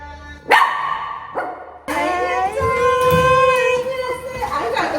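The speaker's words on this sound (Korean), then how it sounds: "응, 짖으면 안 돼." A small dog barks sharply indoors, two quick barks followed by a longer whining yelp, close to the microphone, mixed with children's voices in the background.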